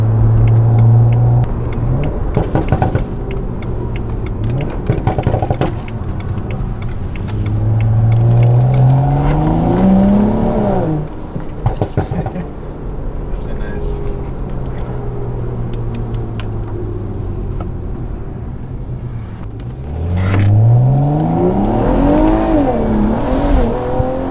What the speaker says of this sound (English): I'm gonna try go on a little side road right here, give you guys a small little pull.